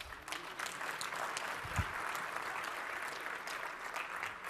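A tech conference audience breaks into applause, a dense, even patter of many hands that holds steady for several seconds, heard from a slight distance.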